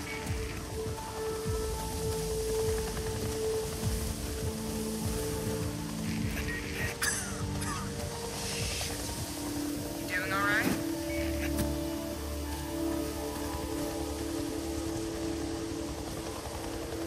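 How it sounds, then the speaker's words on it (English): Steady rain patters across surfaces in the video game Days Gone, a continuous wash with low rumbling and occasional clanks mixed in, and faint voices beneath it. "It's always raining out here."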